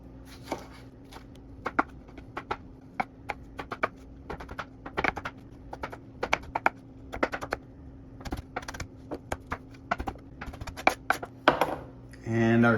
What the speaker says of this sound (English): So we're gonna just dice those up into some small pieces.